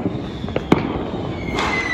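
Diwali fireworks seen from a rooftop crackle and pop continuously at a distance, with a couple of sharper bangs standing out over a dense, steady rumble.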